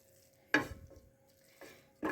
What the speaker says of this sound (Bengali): চিনিটা গলে গেছে একেবারে। এবার একটু নেড়ে নেব।